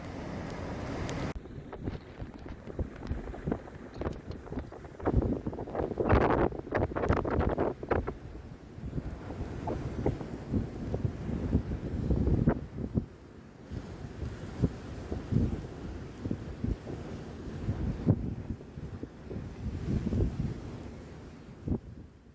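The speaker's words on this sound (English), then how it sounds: "This is a really gnarly sea going on down here at the moment too. Especially out wide, huge waves." Stormy wind buffets the microphone over a rough, gnarly sea with huge waves, a loud gusting roar with surges and crashes that rise and fall throughout, no voices heard.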